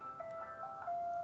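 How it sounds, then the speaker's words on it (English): An electronic alarm goes off with a steady, melodic tone that repeats without a break, fairly loud and close, with no voices over it. "That was an alarm"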